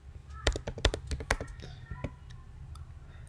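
Fingers type a command on a Mac keyboard in Terminal, a quick burst of close, crisp key clicks followed by a few sparser taps, with a voice faintly heard.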